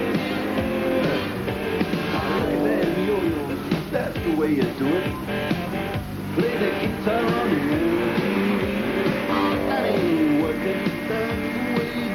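Onboard a racing hovercraft carrying heavy filming gear during a race at Saint-Gilles-Croix-de-Vie, the engine roars loud and close, its pitch swelling and wavering continuously while a voice narrates over it.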